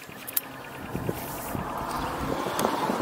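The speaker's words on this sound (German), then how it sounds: "Ah, leider ist es mal wieder ganz schön windig." Steady wind buffeting and rumbling across the microphone outdoors while a DJI Air 2S drone is set up, with a few faint clicks and knocks, no speech.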